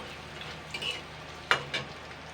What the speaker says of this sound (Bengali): এটাকে আমি 2 মিনিট মতো নাড়াচাড়া করে নেব।